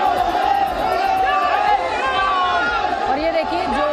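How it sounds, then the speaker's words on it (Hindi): A large, dense crowd at Patna airport roars and chatters loudly, with shouts and cheers over a rhythmic chant or drumming pulse, and a voice speaks over the crowd noise. "पटना एयरपोर्ट पर उन्हें देखने के लिए भारी भीड़ उमड़ गई।"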